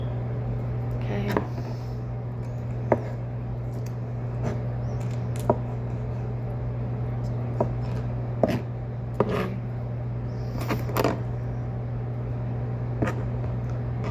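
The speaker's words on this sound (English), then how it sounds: "here's the white part of the egg. It's going to be chopped just like all the other things were." A knife chops through boiled egg white on a cutting board, giving a dozen or so sharp, separate knocks spaced unevenly over a steady low electrical hum.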